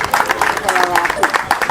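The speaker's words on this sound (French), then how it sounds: "Applaudissez pour ça." Outdoor crowd clapping at the launch of a community football tournament, brisk applause with a voice heard over it through the short stretch.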